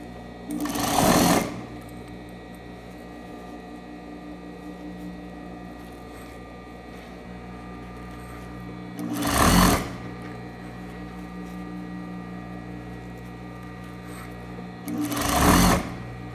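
A sewing machine top-stitches bias tape onto a waistband in three short bursts of rapid whirring, spaced several seconds apart, with a low steady hum between them and no talk.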